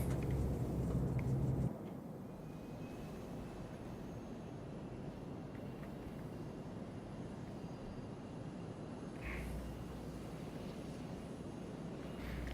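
Steady, broad jet engine roar from a Flight Factor A350-900 in X-Plane 12 as it taxis to turn onto the runway, constant and even, with a slight shift in tone early on.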